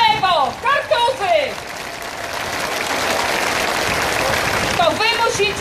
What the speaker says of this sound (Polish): Oklaski dla nich!